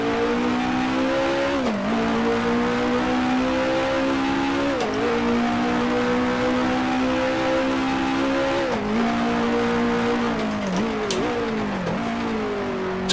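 A 1966 Formula One car engine in Grand Prix Legends, on the 1966 South African Grand Prix circuit, screams loud and steady at high revs, pitch dipping sharply with each downshift and engine braking before climbing again, with faint tyre squeal.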